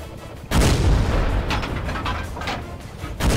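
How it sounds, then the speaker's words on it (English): In World of Tanks, a tank destroyer gun fires blindly into a bush with a loud booming report, followed by mechanical reload noise and another shot at the end. "we're just going to do a little bit of more blind firing here into this bush"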